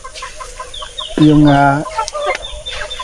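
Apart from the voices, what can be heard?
heritage native chickens clucking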